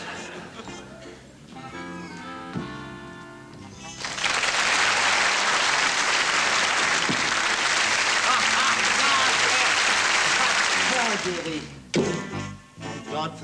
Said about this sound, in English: Thank God for the applause